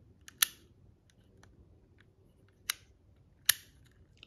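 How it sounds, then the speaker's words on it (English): Three sharp mechanical clicks from a 1992 Mitsubishi 3000GT VR4 two-position active exhaust switch, isolated and close, spaced irregularly over near silence with faint background hiss. "you can hear the clicking sound now."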